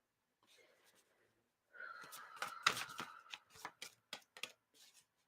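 Tarot cards being shuffled, a quiet soft start followed by a series of crisp riffling and snapping bursts, close and distinct, with breathy sounds in between.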